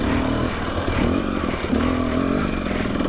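A 2017 Husqvarna TX 300 two-stroke dirt bike engine revs loud and close on a technical trail ride, its buzzing tone rising and falling continuously with throttle blips and some clatter from the bike.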